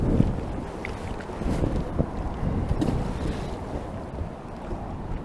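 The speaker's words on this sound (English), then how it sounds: "wind's got bad again, hasn't it?" Wind blows outdoors by the water during bream and perch fishing, buffeting the microphone in loud, gusty rumbles that rise and fall continuously.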